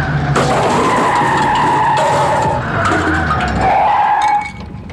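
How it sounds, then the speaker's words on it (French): A line of taxis pulls up and brakes to a halt, tires screeching loudly and continuously for several seconds before the sound drops away, with no voices present. "au signe du chef des Sherpas, une file de taxis s'arrêta."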